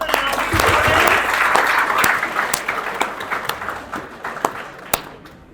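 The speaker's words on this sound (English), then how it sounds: "Can we clap for the lovely students?" An audience at a student mindful-living session claps loudly and continuously, the applause thinning into scattered individual claps toward the end.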